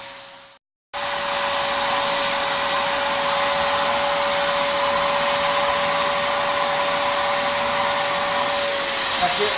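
An electric paint sprayer starts after a brief silent gap and runs continuously at full power, a loud, steady airy roar with a faint constant hum underneath, close to the listener and without any voices.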